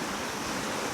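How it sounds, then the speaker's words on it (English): River water rushes and eddies around concrete bridge columns where the channel narrows, a dense, continuous roar of flowing water with no pauses or voices. "you watch closely how the water eddies crash against the column"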